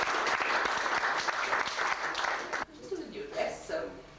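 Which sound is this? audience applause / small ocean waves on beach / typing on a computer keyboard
audience applause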